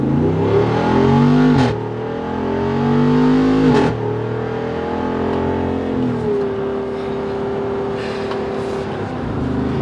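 A 2022 Jeep Wrangler 392 Xtreme Recon V8 engine accelerating from a stop in the road: loud, close revving that climbs through gears with brief shift breaks, then settles into a steady cruising drone.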